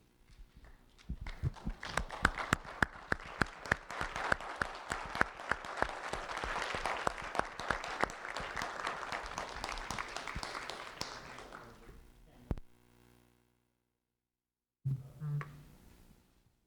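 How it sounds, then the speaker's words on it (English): A school audience gives students a standing ovation: dense, sustained clapping from a crowd that swells, holds for about ten seconds, then tapers off, followed by a pause and a brief low voice. "let's give our students one final standing ovation"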